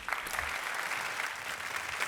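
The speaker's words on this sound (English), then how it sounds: "Round of applause, please." At a Cannes Lions festival presentation, a conference audience applauds as a creative director walks on stage, an even, moderately faint wash of many hands clapping throughout.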